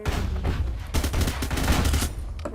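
Rapid gunfire from a pixel-style shooter video game, with dense continuous bursts of shots and a rocket launcher in play, loud and sustained throughout with no talking.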